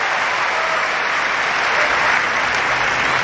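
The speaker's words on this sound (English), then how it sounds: "This crowd showing their appreciation." Steady, dense applause from a large crowd at a Wimbledon 2018 women's tennis match, a continuous even roar of clapping with no breaks, loud and enveloping.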